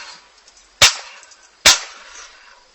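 Two sharp, loud knocks about a second apart as the handle of a Biobeche garden fork is struck hard to seat it, each crack ringing briefly before fading into near silence.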